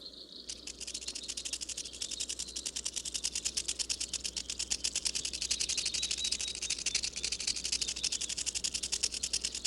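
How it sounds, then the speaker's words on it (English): A rattlesnake shakes its tail rattle in a steady, rapid buzzing that comes in close and loud, swells slightly and holds for the whole stretch with no voices. "The frightening sound of a rattlesnake's tail developed to alert passers-by of where not to step."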